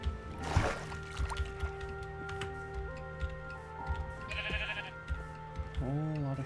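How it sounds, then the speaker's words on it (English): Sheep in the Minecraft video game bleat faintly amid ticking and other game sounds, with a short bleat near the end. "Whole lot of sheep."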